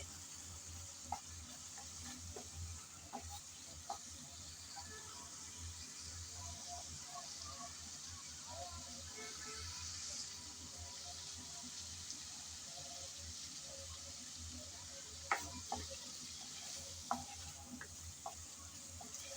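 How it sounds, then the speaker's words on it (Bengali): Masala spice paste being sautéed and stirred in a pan for a fish and winter vegetable curry gives a faint, steady sizzle, broken by occasional soft scrapes and clicks of stirring. No one talks. "তাই সময় ধরে ভালোভাবে মশলাটা কষিয়ে নিতে হবে।"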